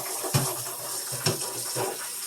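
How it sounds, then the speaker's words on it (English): Cold water runs from a kitchen tap over a deep fryer basket after cooking hot wings, a steady close hiss of flowing water with a few louder splashes and thumps as the stream hits metal. "Now I start running cold water on this."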